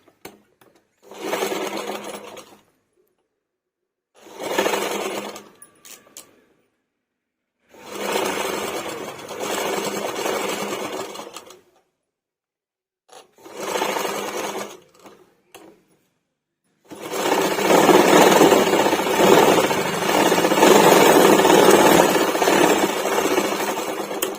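A sewing machine stitches a blouse neck in several bursts separated by short pauses, then one long, loud continuous run of rapid, whirring needle strokes close up, with no voices.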